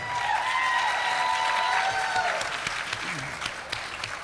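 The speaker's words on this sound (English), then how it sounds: "Big round of applause for Lisa and Chris." A ballroom dance competition studio audience applauds in a dense, steady burst of clapping with some cheering, fading slightly toward the end, while a voice speaks briefly over it.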